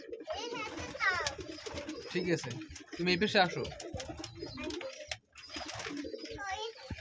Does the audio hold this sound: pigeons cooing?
yes